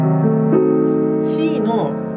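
Jazz piano playing a whole-half diminished scale, a short sustained cluster of notes with a quick run of higher tones near the end, close and clear.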